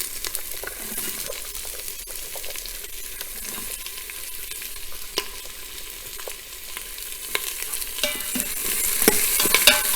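Onions fry in hot oil with ginger, garlic and green chillies for a black-eyed peas curry, giving a steady close sizzle broken by scattered clicks of stirring.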